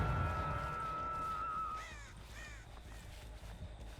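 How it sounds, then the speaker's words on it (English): Crow cawing in the horror game Dead by Daylight, several harsh caws in a quick burst after a sustained tone, fairly close, over a low ambient game background with no talking. "That crow just came back"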